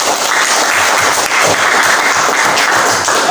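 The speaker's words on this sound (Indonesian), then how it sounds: "Oke, tepuk tangan." Students in a classroom clap together in a steady, close burst of applause that fills the whole short moment, with no talking.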